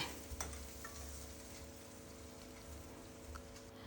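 Quiet, steady sizzling of onions sautéing in a pan for chickpea curry, with occasional stirring scrapes and a soft background hum.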